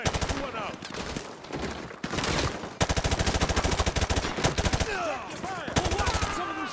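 Heavy automatic gunfire at a school in Call of Duty Modern Warfare 2 Remastered, dense rapid bursts from several weapons, loud and close, with voices talking through parts of it.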